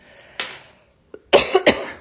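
A single cough rings out, followed after a pause by a burst of several harsher coughs, close and fairly loud, during a live beading class making summer suncatchers.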